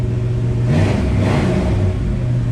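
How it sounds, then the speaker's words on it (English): A 1965 Ford Fairlane's 289 V8 engine revs up in a deep, throaty surge, rising and falling once over a steady idle rumble, close by and loud with no talking. "That 289 revs up pretty darn good."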